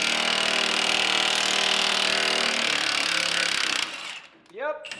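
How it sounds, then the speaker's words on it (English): A press forces a ball joint out of a Chevy Silverado or GMC Sierra truck, making a loud, steady grinding, chattering drone that cuts off abruptly, followed by a voice. "But let's see if this one presses out."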